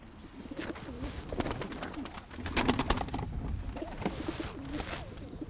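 Domestic white pigeons being raised and flown coo close by, soft throaty calls repeating over a rustling bed of wing flaps and movement, steady and moderately loud throughout.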